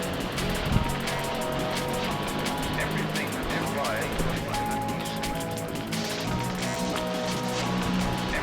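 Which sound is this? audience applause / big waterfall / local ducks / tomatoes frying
big waterfall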